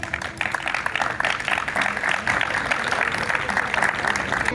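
Audience applause greeting the memorial church choir at a Christian gathering, a dense, steady wash of clapping that holds at even strength for the whole stretch without pause.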